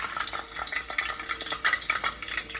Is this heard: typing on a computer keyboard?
no